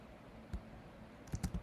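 Typing on a MacBook keyboard: one soft key tap, then a quick cluster of three taps about a second later, close but very quiet.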